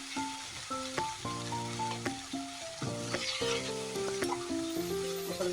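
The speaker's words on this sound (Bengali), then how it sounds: "মশলাটা আমি ভালো করে ভেজে নেব" Spice paste of coriander and chilli fries in oil for a banana flower curry, a soft continuous sizzle running beneath a melodic music track that dominates the sound.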